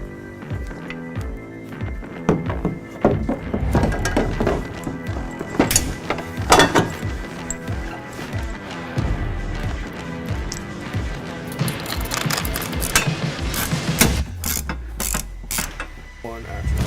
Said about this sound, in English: Then we're gonna hand tighten it to this cage nut here.